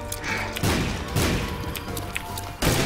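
Repeated explosions in The Binding of Isaac: Rebirth, a series of loud, close booms at roughly half-second intervals, with a dense, crunchy rumble continuing between them.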